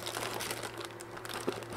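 Plastic packaging crinkles while being unwrapped from a laser engraver enclosure kit, a continuous soft rustling and crackling close by with no talk.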